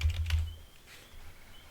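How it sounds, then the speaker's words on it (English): Quick burst of keystrokes on a computer keyboard, a short cluster of clicks at the start that then trails off into a quiet room. "we'll just type in a random crew"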